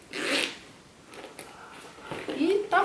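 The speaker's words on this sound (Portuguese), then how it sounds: "Fechar o meu zíper." A zipper on a synthetic leather toiletry bag is pulled closed in a few short rasping strokes, close by, with a person talking alongside.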